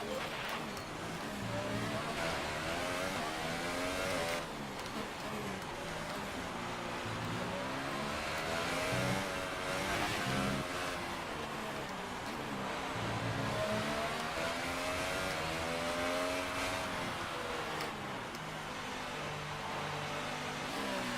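A race car engine in the F1 2018 video game, at the Mexican GP, drones loudly and continuously while entering the pits, its pitch rising and falling with gear changes and speed.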